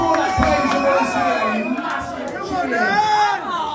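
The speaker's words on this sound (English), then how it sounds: "Huge cheer." A crowd cheering and shouting at a live drum and bass night in a club venue, a dense, loud roar of voices that holds steady throughout, with scattered whoops rising above the mass.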